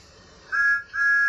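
Two short, clear whistle toots of a train whistle, the second following a brief pause, fairly loud against a quiet background.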